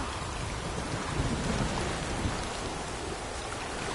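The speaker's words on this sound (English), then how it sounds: "The storm, damn it." Storm in the Witcher video game: dense, steady rain hiss with deep thunder rumbling beneath, continuous and enveloping, with no voices.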